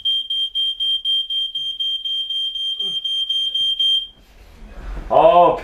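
A smoke alarm in a log cabin, set off by smoke from a wood fireplace, sounds a loud rapid chain of high piercing beeps, then cuts out as a voice speaks nearby.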